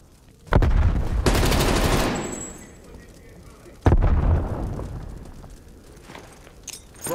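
Loud explosions and gunfire in Call of Duty Cold War: two heavy close blasts a few seconds apart, each booming and then rumbling away, with scattered shots and a voice speaking between them.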